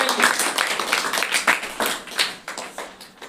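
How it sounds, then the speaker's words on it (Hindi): Audience clapping for students in a Bihar school environmental role-play, a loose scattered patter of hands with uneven bursts that thins toward the end. "जोरदार ताली बजाइए।"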